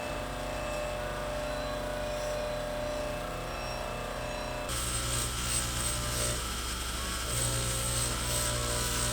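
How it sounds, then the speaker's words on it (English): Bench grinder with a finer wheel cleaning the steering stem of a Suzuki RM250 motorcycle, a steady loud whining hum that turns harsher and grittier midway as the metal is pressed against the wheel, with no talking. "I'm gonna bring it over to the bench grinder and clean it up with this finer wheel."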